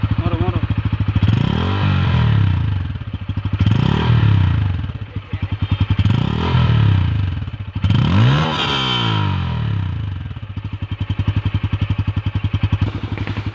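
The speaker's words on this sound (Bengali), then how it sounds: "এই বাইকের এক্সজস্টের সাউন্ডটা তো আপনারা শুনলেনই" A Bajaj Pulsar N160 motorcycle exhaust revs up and settles back to a steady idle several times over, loud and close, with a throbbing low rumble between the repeated throttle blips.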